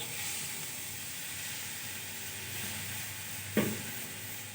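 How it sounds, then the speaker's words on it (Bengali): Soy sauce goes into a pan of homemade masala pasta, which gives a steady, close sizzling hiss throughout with one brief sharp knock near the end. "দিয়ে দিচ্ছি সয়া সস"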